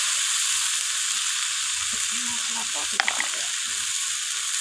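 Spices fry with chopped coriander leaves for a surmai fish curry, a constant hissing sizzle with a few faint stirring scrapes and a brief clink partway through.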